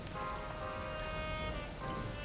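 Rain in the Shadowrun Hong Kong video game, a continuous soft hiss of falling water with gentle sustained musical tones drifting underneath.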